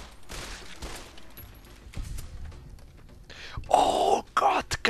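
Gunfire in Fallout New Vegas, several sharp shots scattered across the moment, the last few loud and close in a quick cluster, with quieter ambient sounds between.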